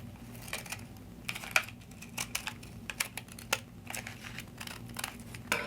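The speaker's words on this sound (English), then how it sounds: "I'm just going to trim off anything hanging over the edge here." Scissors or a blade trim overhanging paper from the edge of a vintage coffee-stained journaling card, producing quiet, close, irregular snips and crisp paper clicks.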